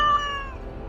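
A cat meows once inside a video game, a short tonal cry that fades out quickly, fairly clear with no talk over it.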